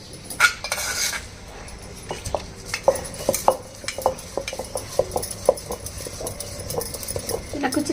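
A stone mortar grinds coconut-coriander chutney with cumin and salt, giving repeated scraping strokes and sharp stone clacks at an uneven rhythm, close by.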